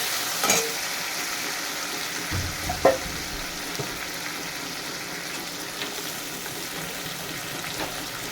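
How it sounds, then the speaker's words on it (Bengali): Chopped onion and tomato frying in a pan with black cumin seeds, a steady soft sizzle throughout, broken by a few faint stirring clinks, heard close and without talk. "পেঁয়াজ কুচি দিয়ে দিলাম টমেটো কুচি দিয়ে দিলাম ভেজে নেব"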